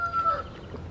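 Chickens and turkeys on a homestead cluck and call in a brief burst, with a short rising crow-like note near the start over a low, steady background.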